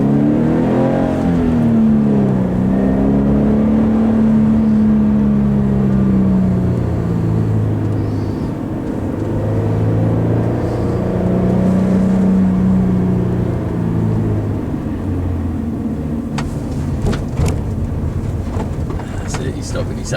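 A BMW drives down a road, building speed toward about 70 for a braking test, its engine drone steady and close with rising and falling pitch while people talk throughout.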